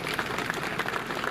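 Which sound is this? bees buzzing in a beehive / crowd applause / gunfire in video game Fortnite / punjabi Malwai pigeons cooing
crowd applause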